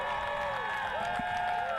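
Stadium crowd murmuring and cheering at a San Diego Wave soccer match at the Empire Polo Grounds, a broad distant roar under a tonal, whistle-like background.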